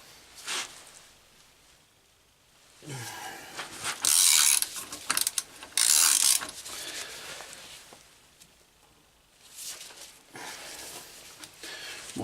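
A wrench works on a bolt while the clutch is removed from a BMW K1200 GT motorcycle: several bursts of metallic ratcheting and clicking, closely miked and loud, separated by quieter gaps.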